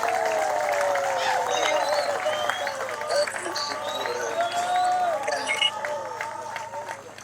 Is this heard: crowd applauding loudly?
yes